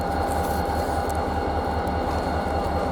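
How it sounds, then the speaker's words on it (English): CN 568, a light-power freight locomotive with unit 4937, running around its train at Portland siding in St. Marys in November. A steady, loud, rhythmic diesel engine throb carries on without a break. "they're going to do this quick operation of running around their train"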